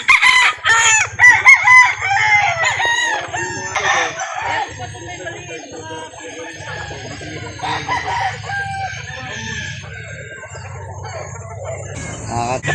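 Roosters crow repeatedly and hens cluck at a chicken sale in Calauan, Laguna, loud and close, with people talking and haggling in the background throughout.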